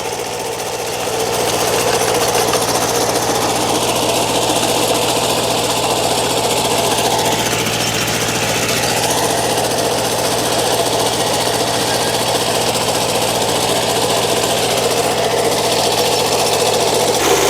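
A tractor engine runs steadily through potato digging in the field, with a loud, continuous mechanical rattle and drone that starts after a brief quieter moment and then holds near and unbroken throughout.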